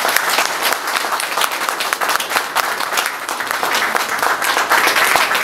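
An audience at a seminar breaks into dense, sustained applause, steady and loud throughout.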